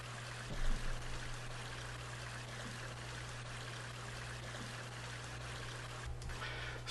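Soft, steady trickle of a creek water sound sample in Ableton Live 11, flowing over stones, with a constant low hum beneath and no talking.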